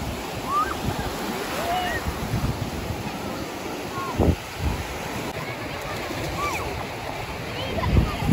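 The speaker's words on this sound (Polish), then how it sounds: "Ale idzie fala." Sea waves break on the Belgian coast, a steady wash of surf with wind buffeting the microphone and a louder swell near the end, under people talking.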